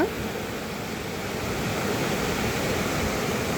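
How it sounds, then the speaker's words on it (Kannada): Water streams down a jungle-covered hillside in small falls. It makes a steady, dense broadband rush that stays constant and moderately loud, with no voices. "ಈ ಗುಡ್ಡದಾಗಿಂದ ನೀರು ಹಿಂಗೆ"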